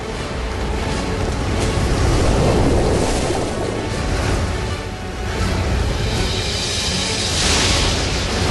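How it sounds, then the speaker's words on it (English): Huge tides surging across the surface of the early Earth, heard as a loud, continuous roar of crashing surf with wind noise, swelling and easing in waves with no voices. "creating huge tides that race across the planet's surface"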